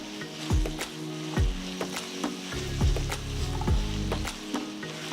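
Onions, curry leaves and ginger garlic paste frying in a pan for chicken biryani, stirred with repeated scraping sweeps of a spoon over a soft sizzle, close and fairly loud.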